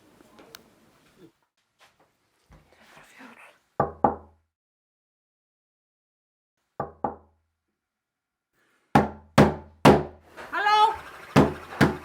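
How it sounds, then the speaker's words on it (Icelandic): Someone knocks on a door in sharp bursts of two or three raps separated by quiet pauses, close and loud, with a voice speaking briefly near the end. "ég er búin að banka á dyrnar og það kemur enginn til dyra"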